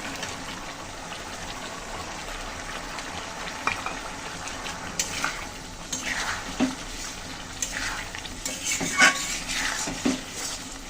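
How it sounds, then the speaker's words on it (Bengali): Potatoes and fried shrimp are stirred in a spice paste in a pan, with scraping and clinking of a spatula against metal over a soft, steady sizzle, the scrapes coming in irregular bursts. "আলু দিয়ে চিংড়ি দিয়ে একটু কষিয়ে নেব।"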